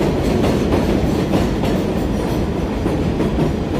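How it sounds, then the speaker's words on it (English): A train rushes past in Astoria, Queens, a loud, dense roar of wheels on rails with steady rattling clatter, heard up close without pause. "I don't think I want to live like next to the train with the noise"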